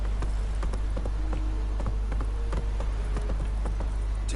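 Hooves of Roach, a horse in The Witcher 3, gallop in a quick, even rhythm of sharp clip-clop strikes close up over a steady low background hum.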